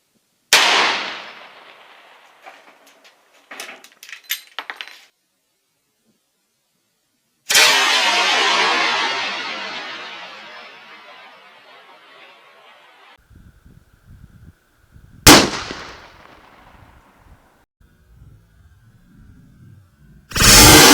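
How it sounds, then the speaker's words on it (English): A 45-70 rifle fires Underwood 325 grain Xtreme Hunter ammunition at sheet metal, sharp loud shots sounding several times with long booming decays between quiet gaps and faint handling noises. "second shot is going to be with the Underwood ammo"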